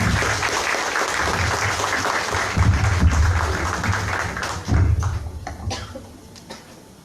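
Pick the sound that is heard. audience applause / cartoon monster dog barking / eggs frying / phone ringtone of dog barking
audience applause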